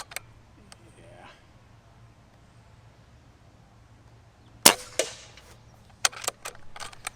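A bullpup air rifle fires a few sharp, close cracks in the second half, each followed by a brief clatter, after a mostly quiet stretch with soft background hum.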